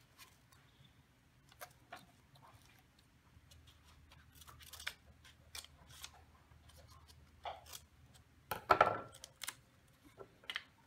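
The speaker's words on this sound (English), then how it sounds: "Okay, and then I'm gonna get my scissors." Sparse, sharp snipping clicks of scissors cutting, a few isolated snips then a cluster near the end, in a quiet room.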